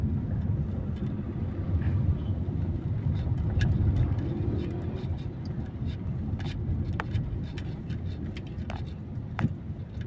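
Dense road traffic with cars queued at a stoplight near Miriam College, heard as a steady low engine rumble from inside a vehicle, with faint ticks and clicks scattered over it.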